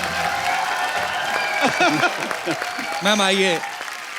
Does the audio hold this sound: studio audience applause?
yes